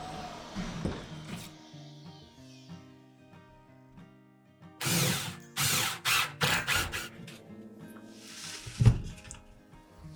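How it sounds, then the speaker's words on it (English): Power drill boring holes through an insulated 2x6 exterior wall, heard as several close, loud grinding bursts in quick succession after a quieter stretch, ending with a heavy thunk. "we're going to drill a couple holes in here"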